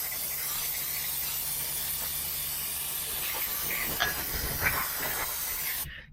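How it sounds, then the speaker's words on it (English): An aerosol can of brake cleaner sprays generously onto the brake calipers of a G82 BMW M4, a loud continuous hiss lasting about six seconds with a few brief sputters near the end before it cuts off. "Hit it with a generous amount of brake clean."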